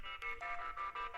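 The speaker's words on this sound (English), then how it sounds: "sorry, that's my phone." A mobile phone ringtone plays a Bollywood film song, a bright melodic tune repeating in short phrases with brief dips between them, fairly close and clear with no talking over it.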